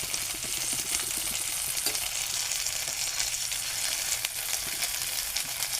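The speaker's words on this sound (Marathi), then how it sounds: "अशी मध्ये मध्ये आपण परतून घेऊया." Stuffed bitter gourd (bharli karli) sautés in a pan with a steady close hiss of frying oil and occasional soft stirring scrapes throughout.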